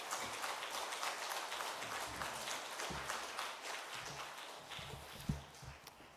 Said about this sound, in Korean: 큰 박수로 큰 은혜 받을 수 있도록 박수 부탁드리겠습니다